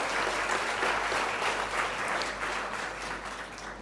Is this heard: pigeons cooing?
no